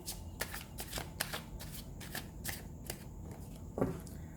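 Tarot cards being shuffled by hand, a quick series of crisp riffling snaps and soft slides up close, fairly quiet, with no speech.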